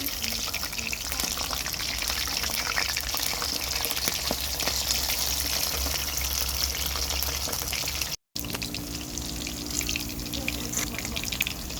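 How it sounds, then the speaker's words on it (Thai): Slices of pork belly deep-frying in hot oil after being flipped, giving a steady, dense crackling sizzle close by that runs without pause, broken only by a momentary cut near the end. "เมื่อเหลืองได้ที่นะครับเราก็จะพลิกอีกด้านหนึ่งลงไปทอดต่อนะครับ"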